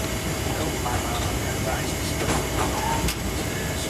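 A train rumbles steadily along the Immingham railway line past sidings near the docks, a continuous broadband roar with no breaks, a voice talking faintly over it.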